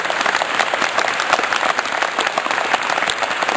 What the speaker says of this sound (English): So please, a big clap for the wives and the partners.